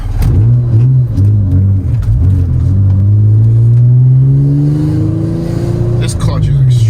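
A modified Acura TL Type-S with straight-cut gears and a heavy stage 2 clutch accelerates, its loud engine note climbing steadily in pitch and then dropping as it shifts.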